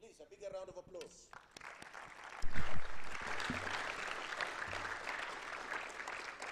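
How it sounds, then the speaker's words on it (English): Audience applause at a space expo and conference, starting after a brief stretch of speech and swelling into sustained broadband clapping that holds steady to the end. "Please, a bigger round of applause."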